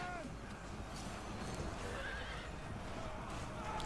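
Horses whinny and crash down amid a dense medieval battle in a Romans-versus-Vikings strategy game mod, the neighing rising over constant clashing, hooves and crowd roar, with voices mixed into the din.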